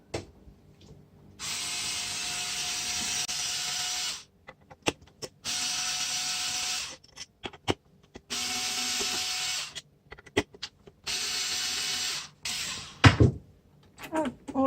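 Electric screwdriver unscrewing screws while dismantling a SMART PRINT printer, several whirring bursts a few seconds long separated by clicks, clatter and handling noises, heard close.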